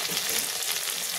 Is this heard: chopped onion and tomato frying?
yes